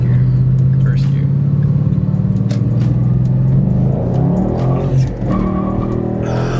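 A car pulls away in first gear during a dealership test drive, its engine rumbling loudly and rising in pitch as it accelerates, with people talking over it throughout.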